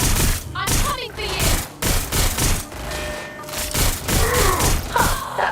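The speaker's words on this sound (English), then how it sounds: "I've been looking forward to trying out my new shotgun." Shotgun fire, with repeated loud, punchy blasts in quick irregular succession, close and heavy, with voice-like sounds mixed among the shots.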